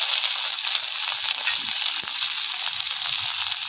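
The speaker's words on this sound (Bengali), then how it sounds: "পেঁয়াজ রসুন ভেজে নিয়েছি, এবার এর মধ্যে কেটে রাখা চিংড়ি মাছ দিয়ে দেবো" Cut pond prawns sizzle steadily in a pan with already-fried onion and garlic, a close, continuous frying hiss with no pauses.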